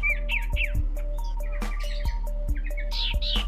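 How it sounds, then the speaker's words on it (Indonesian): A short-bodied sirtu songbird sings close up, with rapid bright chirps and varied whistled phrases over a low steady hum and occasional clicks. "untuk contoh kicauannya untuk burung sirtu yang postur tubuhnya agak sedikit pendek ini seperti ini"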